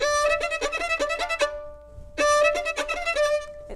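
Violin passage opening with a lurching, overly forceful bow stroke, played as two bursts of rapid detached bowed notes separated by a brief pause, close and loud with no talk.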